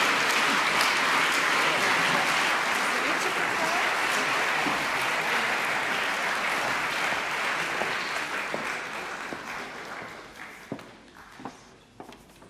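Applause from the audience stand at a Romansh song festival composition contest, dense sustained clapping that thins out toward the end into scattered individual claps, with faint voices underneath.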